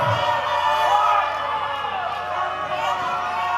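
A wrestling arena crowd roars loudly and continuously, the cheering filling the hall with a dense, sustained wash while commentators talk over it.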